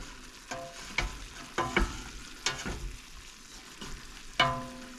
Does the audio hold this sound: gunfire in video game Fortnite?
no